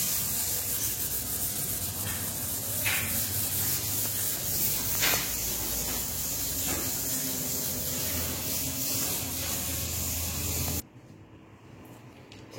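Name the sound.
sanding wood and resin coffee table with fine sandpaper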